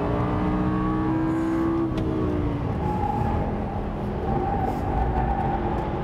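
A 2009 Lamborghini Gallardo LP560-4 with all-wheel drive driving through a corner, its engine droning at a steady pitch that eases back then holds on a lower hum, continuous and close with road noise and no talking.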